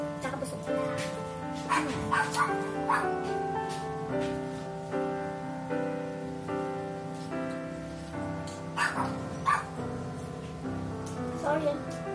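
A dog barks and yips repeatedly in short bursts at a home snack shop, close and fairly loud, over steady background music.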